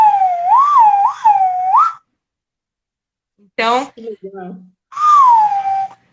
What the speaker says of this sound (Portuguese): eu brinco um pouco com o apito de nariz